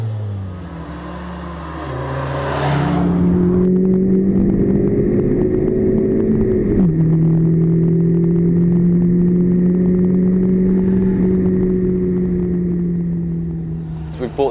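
A 2015 Honda Civic Type R turbocharged engine revving on the Slovakia Ring track, a loud, sustained high-pitched drone that climbs sharply, dips briefly, then holds near the top of the rev range.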